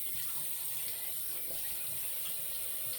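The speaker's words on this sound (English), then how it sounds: "But okay, we're going to rinse here." Tap water runs steadily while an Aylesworth Apex aluminum safety razor is rinsed. The flow is soft, close and continuous, with no voices.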